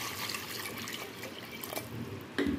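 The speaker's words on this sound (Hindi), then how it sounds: "इसमें डालूँगी पानी," Water poured into a pressure cooker holding lotus stem pieces, a steady close splashing stream running the whole time, with a brief knock near the end and no speech.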